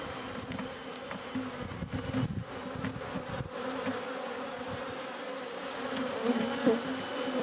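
A thriving honeybee colony hums on a brood frame, the dense buzzing of many bees steady and close throughout, with individual bees droning past now and then.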